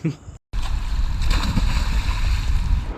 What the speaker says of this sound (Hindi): अब ये तैरते तैरते हुए आ रहा है